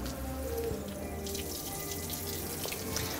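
Water runs steadily from the tap of a hydropress apple press, a continuous splashing, gurgling flow draining off at close range with no speech.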